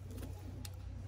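Soft cooing of a racing pigeon arriving at the loft after a race, a faint low murmur set against steady background hum.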